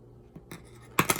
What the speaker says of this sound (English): I'm going to cut the yarn